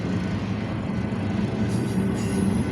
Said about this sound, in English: The Z train is here.